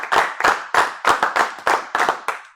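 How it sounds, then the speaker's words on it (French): Sparse clapping at the Grizzly Awards 2022 golf ceremony honors the host golf clubs, about ten distinct claps in a slow, uneven rhythm, fairly close and clear with no talk over them. "On peut les applaudir aussi également."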